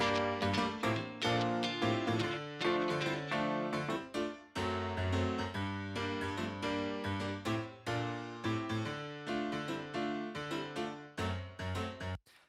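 A rhythmic piano part repeats choppy chords in a steady pulse within a full, dense music track, without any talking.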